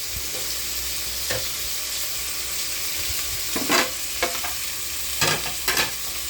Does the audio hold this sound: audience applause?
no